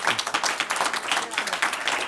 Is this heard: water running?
no